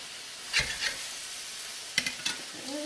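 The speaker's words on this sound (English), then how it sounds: "it's just the cod cooking" Cod fillets fry in a pan with a continuous sizzle, broken by a few scraping clicks of a spatula working under the fish.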